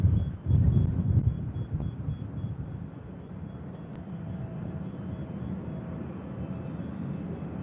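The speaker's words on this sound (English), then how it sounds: "Beautiful takeoff." A jet airliner takes off at LAX with a steady, distant, broad roar that rumbles on without a break.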